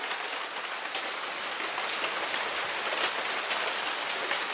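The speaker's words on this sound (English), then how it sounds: "Look at all that rain." Heavy rain pours down outside in a dense, continuous hiss with scattered louder drops spattering on surfaces, steady and fairly close throughout, with no talk.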